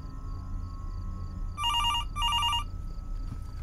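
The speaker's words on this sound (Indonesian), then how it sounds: "Kok ada bunyi telepon?" In the horror game Fears to Fathom: Norwood Hitchhike, a telephone bell rings in two clear electronic bursts over a low steady background hum, close and distinct.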